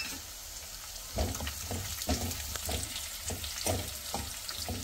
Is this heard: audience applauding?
no